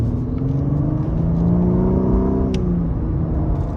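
A 2018 Lexus LS 500 F-Sport accelerates, its engine note synthesized through the cabin speakers, a smooth rising hum heard from inside the car, steady and moderately loud with no talking.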